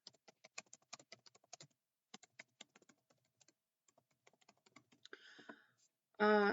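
Keys on a computer keyboard are tapped in quick bursts of close, crisp clicks with brief pauses, while a name is typed in Canva, ending with a short electronic sound.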